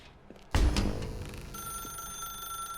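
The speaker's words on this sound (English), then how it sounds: "Now pick up the phone." An old-style telephone bell in The Stanley Parable video game starts ringing abruptly and loudly, then carries on as a steady, sustained ring for a couple of seconds, heard alone.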